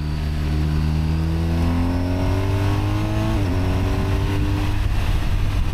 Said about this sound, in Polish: Ten wydech jest najlepszym dopełnieniem tego układu napędowego, sprawia, że chcę słuchać tego dźwięku z przyjemnością